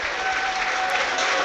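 A football stadium crowd at an FA Cup match between Blackpool and Nottingham Forest applauds steadily, a dense continuous wash of clapping heard from a distance, filling the whole moment.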